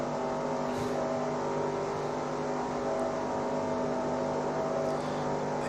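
Race car engine in the NASCAR Racing 2003 video game, running low on power at full throttle: a steady, sustained drone with layered harmonic whine, constant and loud, no voices.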